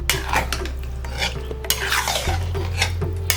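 Sambar, dal and cooked rice are stirred together in a pot, with repeated scraping and clinks of a metal spoon against the vessel over a low hum.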